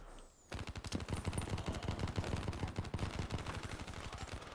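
Rapid automatic gunfire from a video game, a dense stream of close, loud shots rattling steadily for about four seconds after a brief quiet start.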